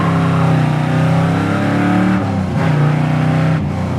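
A 1979 Pontiac Trans Am with a 455 engine accelerates, its loud, steady engine roar holding close and continuous with a brief dip in pitch near the middle before surging again.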